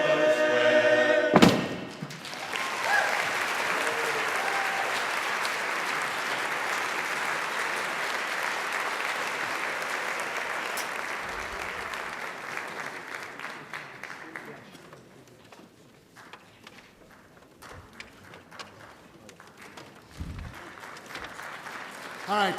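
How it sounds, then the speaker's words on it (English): A long ovation from the audience at a barbershop chorus annual show: dense, sustained applause after a sharp thump, gradually thinning toward the end with a few scattered claps. "That's some ovation"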